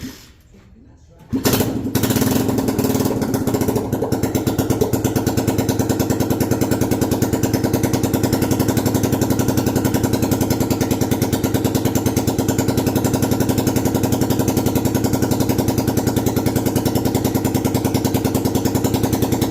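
After a moment of quiet, the single-cylinder engine of a freshly rebuilt 1972 Honda XL250 motorcycle starts up and runs loudly with a fast, steady, rattling chug, close by and unmuffled.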